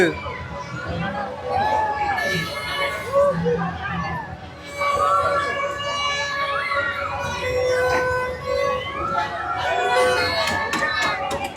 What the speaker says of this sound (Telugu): బ్రేక్ డాన్స్ స్టార్ట్ చేశారు అరుపులే కుర్రాళ్ళు